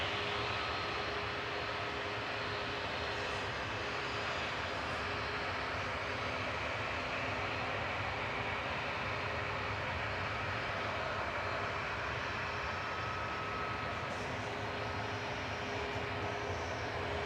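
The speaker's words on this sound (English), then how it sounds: "JZBT lining up, heading off to Tenerife" Jet2 Boeing 737-800 airliner engines roar steadily as it lines up at Manchester Airport bound for Tenerife, a loud, continuous broadband rumble with no breaks.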